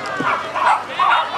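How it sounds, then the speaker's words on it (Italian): A West Highland terrier gives a few quick, yappy barks close by at a beach hotel gathering, with people talking over and around it. "Con tanto di Westie abbaiante"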